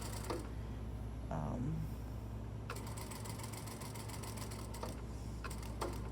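A sewing machine stitches a shirt collar in a steady, quiet mechanical whir, pausing briefly before resuming in a run of fast stitches, with no talking.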